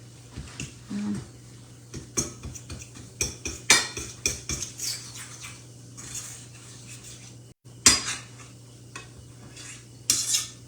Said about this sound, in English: it's just making my roux for regular gravy